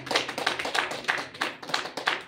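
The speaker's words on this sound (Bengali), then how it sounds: "তার জন্য আপনাদের কাছে একটু করতালি আহ্বান করছি" An audience claps at a motivational speech event as a speaker is welcomed on stage, heard as fairly quiet, distant clapping with uneven pulses and separate claps, no voices over it.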